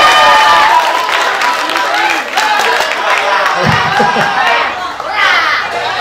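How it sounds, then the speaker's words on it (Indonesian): Applause at a hadroh festival gathering at a mosque in Indramayu, crowd clapping mixed with cheering, children's shouts and chatter, loud and close, with voices rising over the clapping throughout. "Tepuk tangan, tepuk tangan."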